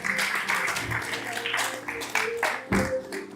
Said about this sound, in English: please can you give a round of applause to our panelists once again?